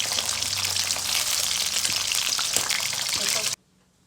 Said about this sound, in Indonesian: Yang terakhir ini cumi sahabat, potong digoreng biasa aja, ini nggak pakai bumbu ya.